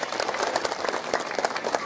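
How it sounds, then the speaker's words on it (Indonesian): Crowd at an Islamic religious lecture clapping together, rapid dense applause with a lively pulsing rhythm, close and steady throughout the short stretch. "Tepuk tangan untuk umat Islam."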